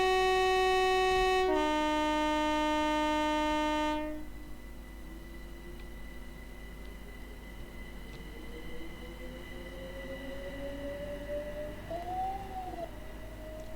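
Class 375 electric train pulling away from a platform in Train Sim 2020, on the Strood to Maidstone West line. Loud horn-like tones open, then a steady rising motor whine builds over rail rumble.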